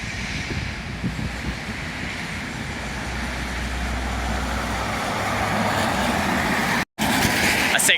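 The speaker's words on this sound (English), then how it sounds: "A 6 coming into the bus station." A route 6 bus pulling into Basingstoke bus station, its engine rumbling low and building steadily as it approaches, with the hum of other traffic and station noise around it.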